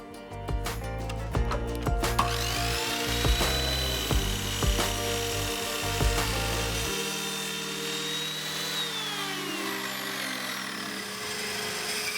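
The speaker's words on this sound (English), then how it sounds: "Then I repeated the same cutting and resawing for the support braces that would stretch from side to side." Wood being resawn into support braces for a child's clothes rail with a power saw, a loud close whine with sharp cutting bursts that drops into a falling run-down as the blade spins down.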